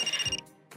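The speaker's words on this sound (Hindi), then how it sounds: "ये तुम्हारा फोन हमारी प्यार का दुश्मन है, हमेशा गलत टाइम पर बजता है।" A mobile phone ringtone sounds briefly, a short bright electronic tone lasting under half a second before cutting off into quiet, fairly soft and alone with no talk.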